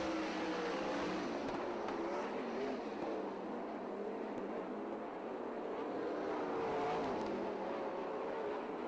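SCRA sprint cars race at Perris Auto Speedway, a continuous distant roar of engines with rising and falling revs as the cars circle the dirt oval.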